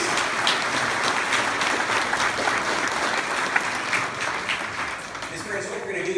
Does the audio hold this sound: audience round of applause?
yes